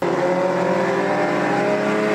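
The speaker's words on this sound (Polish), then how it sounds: "Po raz szósty odbyły się tam wyścigi wraków." Wrecked cars race around a rough wreck-race course, engines roaring loudly and continuously with revving and possible tire squeal, no voices.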